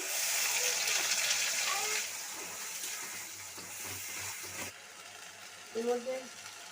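Whole spices, dried chillies, cumin, cardamom and cloves, hiss and sizzle as they are dropped into hot oil for a prawn curry, a steady crackling wash that eases off before a brief stirring clatter.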